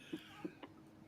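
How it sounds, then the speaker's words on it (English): Someone coughing, three short, faint coughs spaced about a quarter second apart in a quiet room. "I have something caught in my throat and I can't stop coughing"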